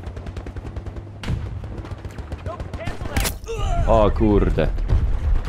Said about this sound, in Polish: Strzelaj do nich, strzelaj